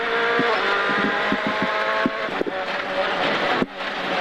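Onboard a Ford Fiesta WRC rally car on a gravel stage at the 2018 Terre de Causses, the engine revs hard and steadily with sharp gearshift cuts and bangs, loud and close throughout.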